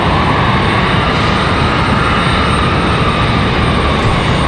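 A Spirit Airlines jet arriving from Newark at Raleigh-Durham airport produces a loud, constant, broadband engine roar close by, unbroken from start to finish, with no speech over it.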